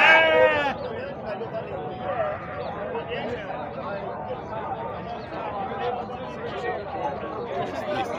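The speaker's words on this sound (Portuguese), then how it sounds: "Parece que é três ovelhas." Sheep bleat at a goat and sheep market in Santa Cruz do Capibaribe, Pernambuco, one loud close bleat at the start, then a crowd chattering with fainter animal calls throughout.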